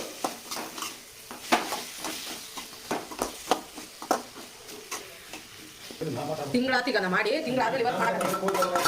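Eggplant chutney frying in a pan with salt and turmeric, village style, as a spatula scrapes and taps in irregular strokes over a soft sizzle, followed by someone talking over the cooking.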